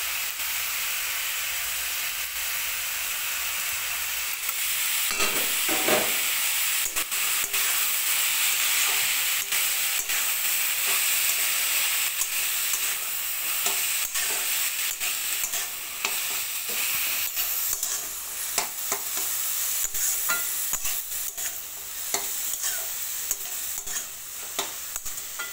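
Green peas, green chillies and beans stirred and frying in a hot pan, a steady close sizzle with scraping stir strokes throughout, no voices.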